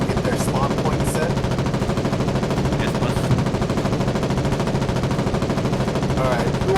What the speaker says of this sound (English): So say again, I can't hear you over the machine gun.